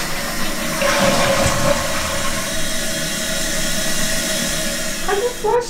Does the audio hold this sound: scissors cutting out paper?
no